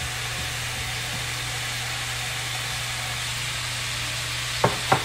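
Cooked rice being added to a hot pan to be stirred and fried for Singaporean rice, a steady sizzle throughout, then a few sharp scraping clatters of the spoon near the end.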